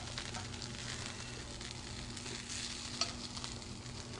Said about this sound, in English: We're going to actually saute shiitake mushrooms in there.